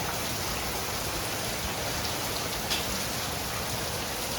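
Heavy rain pours down steadily during a trip to Montepulciano in Tuscany, a dense, even hiss of a downpour with no pauses, loud and close throughout.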